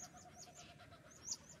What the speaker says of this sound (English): Totally aware of the sounds of the birds